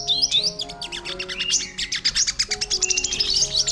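A caged bird, likely a red-whiskered bulbul, chirps and tweets in rapid, bright bursts that run almost continuously. The calls are close and fairly loud over a steady low hum, with no voices.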